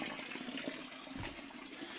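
Spring water flowing at a village near Arki, Solan, a steady, close rushing and gurgling stream that stays constant and alone, with no talking.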